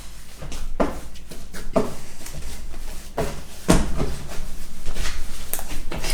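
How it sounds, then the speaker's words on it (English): Dough for vegan hot cross buns being kneaded on a floured surface, with a series of dull thumps and pushes and small pops of air escaping, close and fairly loud. "you'll hear loads of little popping. And that's just the air coming out of the dough"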